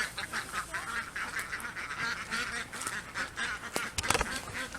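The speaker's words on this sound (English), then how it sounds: "So we got a lonely duck here." A lone duck calls with repeated honking quacks, moderately close and fairly faint, over outdoor background noise.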